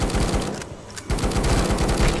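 Rapid automatic gunfire in the co-op VR zombie shooter Death Harvest VR, loud and continuous bursts with a brief pause midway before the firing resumes.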